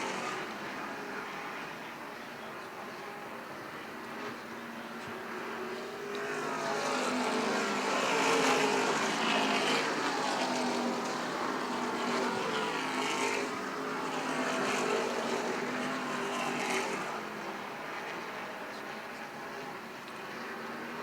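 Stock cars race at Beech Ridge track, their engines roaring past in a swelling, sustained pack that peaks and fades before rising again, with no talk.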